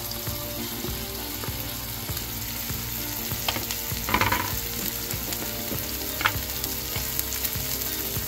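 Chopped green chilies, about 50 grams, fry in hot oil in a pan with a steady crackling sizzle, broken by a few sharper stirring scrapes and clinks; no one speaks.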